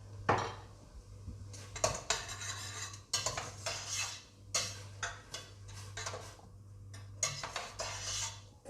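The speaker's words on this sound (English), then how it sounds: "Coat all your carrots and your onions together." Carrots and onions get stirred together in a pan, with repeated scraping strokes and clinks of a utensil against metal in bursts close up, over a faint low hum.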